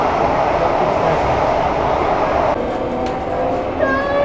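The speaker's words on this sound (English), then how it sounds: "The MRT is coming." A Thomson East Coast Line MRT train pulls into an underground station in Singapore, a loud continuous rumble and hiss that thins out midway, then faint high squeals and tones as it slows.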